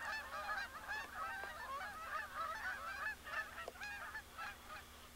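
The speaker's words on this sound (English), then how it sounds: "there's geese all over the field." A dense chorus of geese over a field during a goose hunt, honking nonstop, many birds calling over one another at a steady, fairly loud level.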